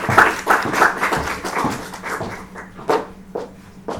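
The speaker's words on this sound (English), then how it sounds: "Can you give him a round of applause?" Audience applause for a speaker at an audit executives' engagement event, moderate clapping that thins into scattered individual claps toward the end.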